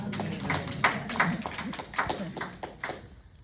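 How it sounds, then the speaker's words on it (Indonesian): Bursts of hand clapping from a church congregation, uneven and moderately loud, with murmuring voices underneath. "Tepuk tangan buat Tuhan Yesus."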